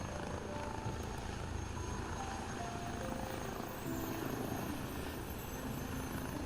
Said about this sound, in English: Mojo giving a big old flyby there. And we'll get a screenshot of his 737